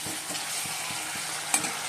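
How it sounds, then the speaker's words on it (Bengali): Spice masala frying in a pan for dalia khichuri, a steady close sizzle with soft rhythmic stirring scrapes and one sharp metallic clink near the end. "চলো, আর মশলাটা কষিয়ে নিচ্ছি।"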